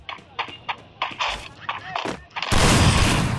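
Gunfire in a shooting video game as the player is killed by a headshot: a run of sharp separate shots, then a loud burst of noise, with talk over it.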